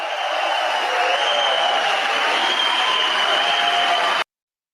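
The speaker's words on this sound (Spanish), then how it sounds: "Oiga, gente, cómo aplaude la gente" A large crowd in Brazil applauds and cheers for Nayib Bukele, a dense, even wash of clapping and crowd noise held loud and steady before cutting off abruptly.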